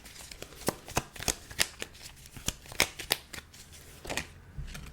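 Tarot cards shuffled by hand, a close run of crisp riffling flicks and soft slaps in an uneven rhythm, quiet and alone.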